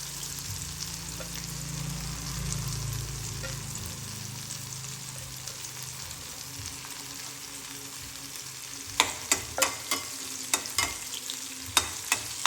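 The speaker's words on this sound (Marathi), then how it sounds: "आता इकडं तेलामध्ये आपण ह्या मिरच्या टाकून घेऊ" Chillies drop into hot oil for poha and fry with a loud, steady sizzle, then a spoon scrapes and taps the pan in a quick series of sharp clicks near the end.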